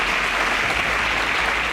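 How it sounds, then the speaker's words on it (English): An audience at a televised quiz competition applauds a contestant, a loud sustained burst of many hands clapping steadily from start to finish. "A round of applause for Victor."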